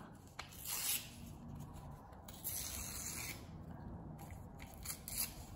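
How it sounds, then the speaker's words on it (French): Paper rips in a few dry, rasping tears close by, with short pauses and light rustling between them. "on va déchirer le papier pour ce rituel-ci"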